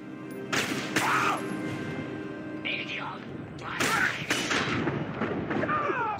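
Gunfire bursts in The Darkness video game, several loud sharp shots spread across a few seconds with broadband cracks, mixed with a busy game soundscape and voices talking throughout.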